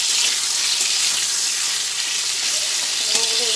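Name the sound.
pumpkin frying in a pan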